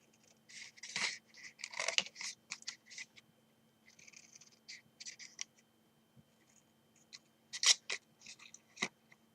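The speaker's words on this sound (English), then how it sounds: "Cut this one off at the end, the last fold." Scissors snip through the paper of a folded chocolate box, a series of soft close crisp cuts and trims in uneven bursts, fairly quiet.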